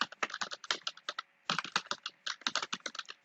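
Close, crisp typing on a computer keyboard comes in fast, irregular clicks, with a short pause midway before another burst of keystrokes.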